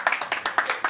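Brief burst of audience clapping at a live stage comedy and mimicry show, a handful of distinct claps in quick rhythm, fairly close and moderately loud.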